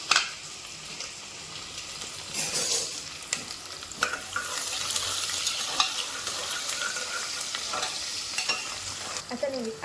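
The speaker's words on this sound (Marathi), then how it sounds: "लगेच कांदा फुल गॅसवरती छान असं करतो आपण" Chopped onion with curry leaves frying in oil on full gas while being stirred, giving a continuous loud sizzle broken by frequent spatula scrapes and light clatter over about ten seconds.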